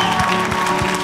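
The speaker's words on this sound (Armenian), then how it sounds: "Ռայան, բարձր ծափար ենք," Loud applause from a talent-show audience at an X-Factor Armenia chair challenge: a dense, steady wash of clapping that fills the whole second without letting up.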